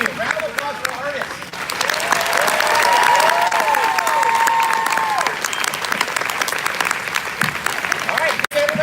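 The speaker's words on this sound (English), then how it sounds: "Round of applause for artists." An audience at a Haunted Mansion 50th anniversary convention panel claps for the artists in a loud, sustained round of applause, with cheers and whoops rising over it and voices mixed in.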